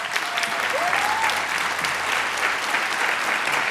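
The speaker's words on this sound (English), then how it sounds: "I ask you to give them a round of applause for their work." An audience at a nursing candle lighting ceremony applauds steadily, a dense even clatter of many hands filling the room throughout, with a faint brief voice or whistle early on.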